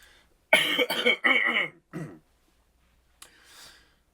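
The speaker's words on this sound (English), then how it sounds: "I'm going to clear my throat." A few rough, forceful throat-clearing bursts close to the mic, followed by a pause and a softer breathy huff.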